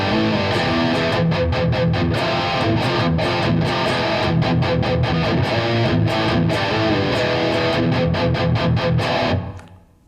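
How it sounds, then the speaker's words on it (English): Randall Thrasher amp head playing a heavily distorted thrash metal guitar tone straight out of the box, dense palm-muted chugging riffs in a tight rhythm, loud and continuous before cutting off with a brief ring-out at the end. "that's a massive chugging kind of just pure thrash metal guitar tone straight out of the box"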